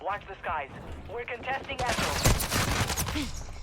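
Gunfire from a firefight in the video game Call of Duty Warzone, loud dense bursts of shots filling the second half, with someone talking over the start and the shooting.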